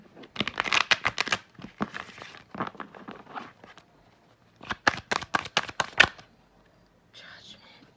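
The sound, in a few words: shuffling tarot cards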